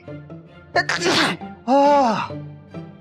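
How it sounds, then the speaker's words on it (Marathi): A loud, close sneeze with a sharp intake and burst, followed by a drawn-out groaning exhale. "तुम्हाला शिंका येत आहेत."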